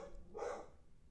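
A dog gives one short bark, fairly close, standing out against a quiet background.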